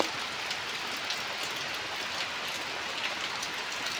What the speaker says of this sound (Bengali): বৃষ্টি পড়ছে, কি সুন্দর দেখো